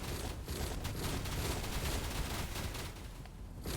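Rapid automatic gunfire-like bursts from sentry turrets in the action game Torchlight Infinite, a dense continuous barrage over thumping low rumble, loud and steady throughout.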